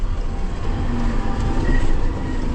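Commuter train rolling past up close, a loud continuous rumble and roar of wheels on rails with a faint squeal, heard without voices.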